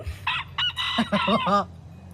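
Chicken in the game GTA, a string of sharp, bright clucks and squawks in quick bursts, fairly close and loud, then a short tail of quiet.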